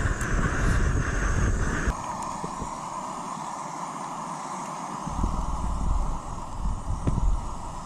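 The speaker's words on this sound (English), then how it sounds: "It's a bit windy" Gusty storm wind at a Bamford Edge wild camp during Storm Ellen, a steady rushing roar that dips briefly mid-way and then swells again, with occasional faint clicks.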